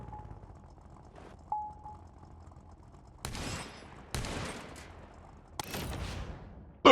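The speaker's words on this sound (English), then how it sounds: "Now use the shotgun to destroy that junk car." Three loud, sharp shotgun blasts in the Crossout vehicle combat game, fired at a junk car at short range, each a sudden bang with a short decaying tail, spaced about a second apart after a quiet engine hum.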